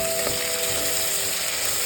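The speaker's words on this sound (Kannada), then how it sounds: "ಇದಕ್ಕೆ ಪುದೀನಾ ಆ್ಯಂಡ್ ಕೊರಿಯಂಡರ್ ಹಾಕೊಳ್ಳಿ. ಇದನ್ನ ಫ್ರೈ ಮಾಡ್ಕೊಳ್ಳಿ." Mint and coriander leaves fry in a pot of one-pot soya and capsicum rice, giving a dense, constant sizzle close up. There is no talk.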